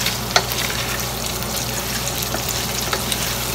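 Shrimp stir-frying in a pan for a taro leaves in coconut cream dish, a steady broadband sizzle with light scraping and one brief clatter, close and continuous with no talk.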